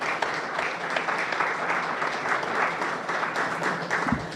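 A crowd at a hospital accreditation ceremony gives a secretary another round of applause, a continuous, full wash of many clapping hands that stays fairly even from start to finish.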